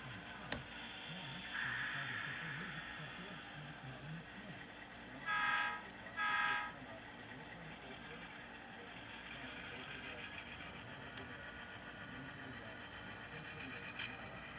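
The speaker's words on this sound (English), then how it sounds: "the great locomotive sound coming out of the Tsunami 1 decoder" Model locomotive engine rumble from a Tsunami sound decoder, a steady mechanical drone with two short horn toots in quick succession midway, under someone talking.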